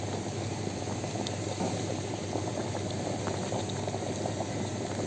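Steady rolling boil of water, a dense bubbling hiss with occasional small pops, continuous and close throughout.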